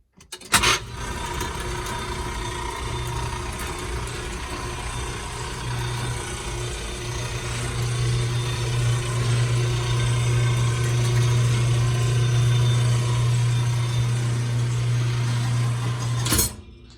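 A home elevator driven by a LiftMaster operator descends with a loud, steady motor hum that strengthens midway, framed by a clunk as it starts and another as it stops, with no talking.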